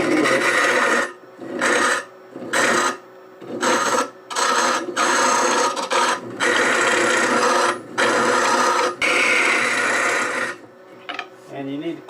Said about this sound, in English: Anchor the tool.